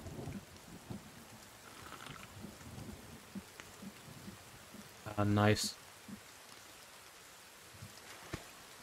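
Rain patters steadily in the survival game The Forest, with low thunder rumbles underneath, a short rising electronic tone partway through and someone speaking briefly.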